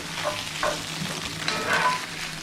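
Eggs frying in a hot pan while being stirred, a close, continuous sizzle broken by soft scraping strokes and small spits, with no voices.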